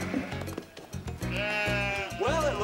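Goats and sheep bleating while munching snacks that fell from a broken snack machine; several wavering bleats, close and loud, with a brief voice under the start.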